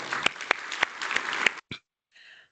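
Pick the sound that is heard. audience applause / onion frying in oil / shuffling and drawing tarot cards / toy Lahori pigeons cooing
audience applause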